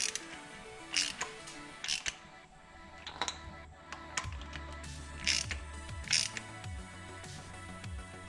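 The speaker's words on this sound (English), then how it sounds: "now I'm going to go around to each one of them and torque them, snug them good" A ratchet wrench snugging down spark plugs on an engine being reassembled, with bursts of rapid clicking ratchet strokes alternating with pauses and light metallic handling noises, close and moderately quiet.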